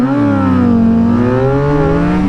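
An old-school Suzuki GSX-R 750 sport bike screams past at racing speed, its loud high-revving engine note holding strong and bending slightly in pitch as it goes by.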